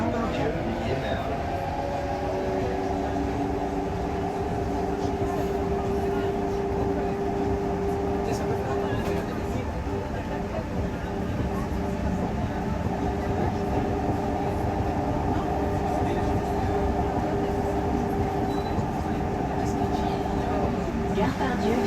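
A Lyon Metro line B train runs between Place Jean Jaurès and Gare Part Dieu, filling the carriage with a steady, loud rumble and a sustained whine, with no break across the ride.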